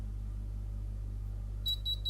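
A bread machine timer beeps when the bread has finished baking, a few short, high, clear electronic beeps in quick succession over a steady low hum, near and distinct.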